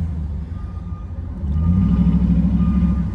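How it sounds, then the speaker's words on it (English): A truck and construction traffic rumble nearby, a steady low engine drone that grows louder halfway through as a vehicle accelerates, with no clear beeping. "Lots of construction here."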